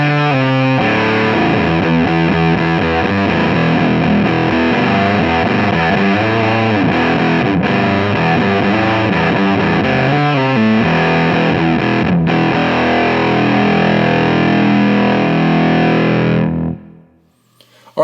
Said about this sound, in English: Let's play our fuzz.